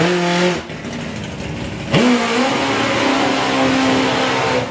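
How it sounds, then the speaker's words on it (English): A four-cylinder supercharged nitro drag racing car revs loudly at a drag racing event, its engine note dropping and then surging back up into a sustained, rising roar at close range, with no talking. "That is the four-cylinder supercharged nitro machine of Neil Midgley in the Slick Tricks lane."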